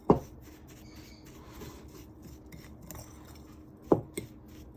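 Macaroni and cheese is stirred with melted butter in a pot: a quiet, close scrape with two sharp clinks of a utensil against the pot, one at the start and one near the end.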